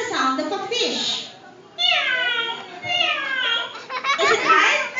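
At a puppet show in a buffet restaurant, kids answer with imitated cat meows, a few rising, wavering cries close by, mixed with children's laughter and chatter.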